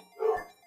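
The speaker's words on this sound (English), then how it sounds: "I don't know what they're barking at." A single short dog bark, faint and somewhat distant, stands alone against near silence.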